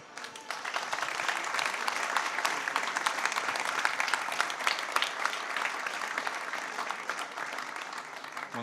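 Warm, sustained applause fills a hall at a Vicenza football awards gala, many hands clapping steadily and densely for several seconds, then easing slightly toward the end.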